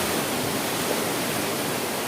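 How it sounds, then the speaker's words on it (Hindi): Water rushing out of the Tandula reservoir in Balod as it is released for irrigation, a steady, dense roar of flowing water filling the whole clip without a break and with no voices. "सिंचाई के लिए यहाँ से पानी छोड़त है और आप मन ला दिखान ये तरफ पानी कैसे निकलत है"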